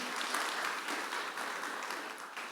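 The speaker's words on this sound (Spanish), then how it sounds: "Un aplauso fuerte." Strong, steady applause from a church congregation fills the space, a dense mass of clapping that holds for a couple of seconds without any talking on top.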